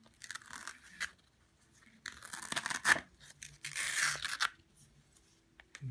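Cut fabric peeled away from a Scan N Cut cutting mat in a few separate bursts of soft tearing and crackling, close by, with quiet pauses between the pulls.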